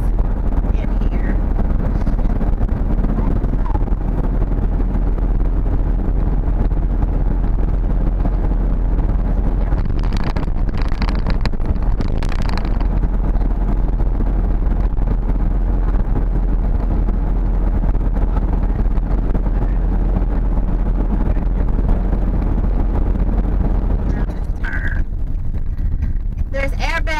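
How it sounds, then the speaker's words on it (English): Steady, loud wind and road roar fill the cabin of a Nissan NV van cruising at highway speed around 60, a constant rush with a few brief knocks and rattles, no talk. "So let's just listen up for the wind noise in here."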